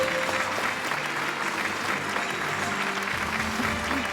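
Steady audience applause for Coach Raji fills an event hall at a Tamil film function, dense continuous clapping at moderate volume with a faint hum of crowd beneath.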